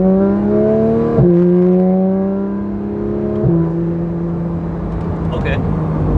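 A tuned Porsche 911 GT3 RS with an aftermarket exhaust, running E85, revs loudly and close, its engine note climbing through two quick upshifts before easing off.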